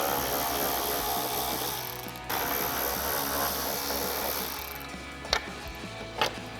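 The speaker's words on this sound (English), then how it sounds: "So we're gonna grab our ratchet and T40 socket, take those 2 out." Hand ratchet with a T40 socket backing out factory bolts on a Jeep Wrangler JL, a steady close clicking of the pawl running for several seconds, then two short sharp knocks near the end.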